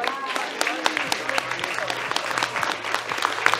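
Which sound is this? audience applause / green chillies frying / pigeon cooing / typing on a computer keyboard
audience applause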